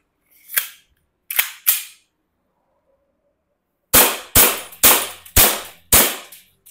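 An airsoft Glock pistol fires in semi-auto: three sharp cracks at first, one alone and then a quick pair, and after a pause five more evenly spaced snappy shots, loud and close with no talking.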